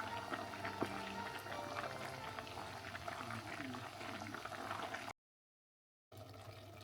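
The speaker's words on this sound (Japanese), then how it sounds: "鍋底で焦げつかないように時々混ぜながら煮詰めます。" Pot of sweet red azuki bean paste simmering down with mirin, bubbling steadily and softly up close, with occasional stirring; the sound briefly cuts to silence near the end before resuming.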